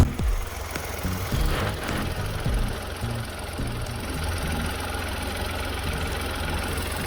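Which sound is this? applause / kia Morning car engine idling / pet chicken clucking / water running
kia Morning car engine idling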